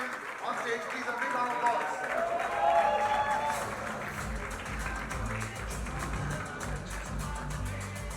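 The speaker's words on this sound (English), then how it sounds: "Please, a big round of applause." A crowd at a star-studded musical night applauds as a singer is welcomed on stage, with steady, moderately loud clapping under voices talking over the room.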